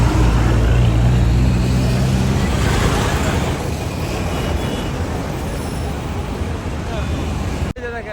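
A loud, steady engine rumble and road roar from inside an intercity bus running from Dhaka toward Bogura, with traffic noise all around and voices mixed into the din.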